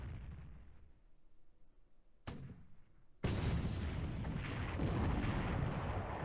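Naval gunfire between warships in the video game War in the Pacific: a loud cannon blast, then heavy sustained rumbling bursts of artillery that fill the soundscape.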